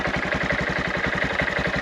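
A Honda Monkey motorcycle engine idling steadily at close range, a continuous low, even putter with no breaks or talk over it.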